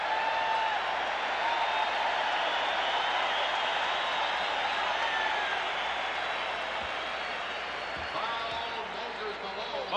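Dense, steady roar of a large basketball arena crowd cheering during a fast-paced 1987 NBA All-Star Game, broad and sustained for the whole stretch with a commentator talking over it.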